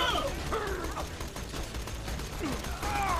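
Gunfire from weapons in the video game Borderlands: The Pre-Sequel, a dense, continuous run of shots with whooshing effects throughout, loud and busy with no clear pauses.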